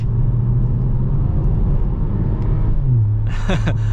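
A Ford Puma ST engine accelerating with its gearbox in manual mode, a deep steady booming drone heard from inside the car that climbs in pitch near the end, with a brief higher sound at the close.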